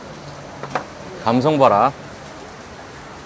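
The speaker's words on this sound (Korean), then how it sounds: "비가 좀 많이 오네요." Heavy rain falls during an outdoor meal on Con Co island in Vietnam, a steady broadband hiss that runs through the whole scene beneath a short burst of close talk.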